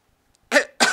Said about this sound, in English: That was not a cool sounding cough.